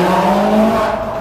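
A V8 car engine revs hard after a downshift inside a tunnel, giving a loud sustained roar with a steady droning tone that echoes, heard alone with no talk.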